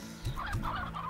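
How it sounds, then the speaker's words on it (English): A few soft clucks from chickens in the video game Slime Rancher come through over a steady, faintly musical background. "It just has chickens. Like a bunch of chickens."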